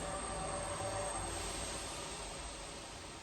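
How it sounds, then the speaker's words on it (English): A passing train produces a steady broadband rumble and roar close by, constant through the moment and easing off slightly at the end, with no talking over it. "sorry, train went past."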